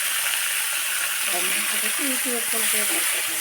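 Garlic sizzles in hot oil for a red spinach dish, a steady close hiss with light stirring clatter and someone speaking over it.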